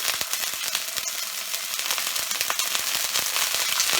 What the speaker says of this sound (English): we'll start adding the marinated cod fillet pieces to the pan